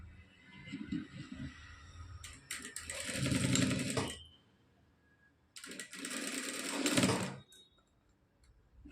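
A sewing machine stitches a cross piece onto a blouse in two sustained runs of rapid mechanical whirring, each lasting a second or two, with quieter handling sounds between them.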